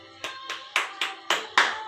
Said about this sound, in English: Bravo, clap.